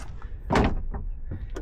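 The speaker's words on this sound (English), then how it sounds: "Let's see if the door can close." The door of a Suzuki Jimny five-door swings shut with a single solid thud up close, a tight fit against new fittings, with faint handling noises and low background rumble around it.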